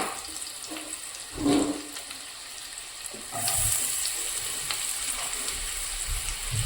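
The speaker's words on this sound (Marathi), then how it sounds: "लसूण थोडा फ्राय झाल्यावर कांदा टाकायचा आहे." Garlic and chopped onion frying in a home kitchen pan, with a soft steady sizzle, a few sharper splashes and crackles, and a louder bubbling hiss that swells midway and carries on to the end.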